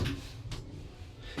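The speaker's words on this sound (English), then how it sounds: "Doors closing." Doors on an Evans lift modernised by Advance slide shut, with a soft thud at the start, a brief rumble midway and another knock as they meet, close and moderately loud.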